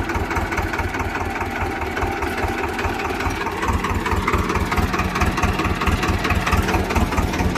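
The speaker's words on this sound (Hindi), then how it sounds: "ट्रैक्टर धीरे धीरे कदम बढ़ा रहा है पीछे की तरफ।" A Swaraj 724 XM tractor engine chugs in low gear as the tractor slowly reverses, a steady, loud, close diesel throb with a regular pulsing rhythm and no talking.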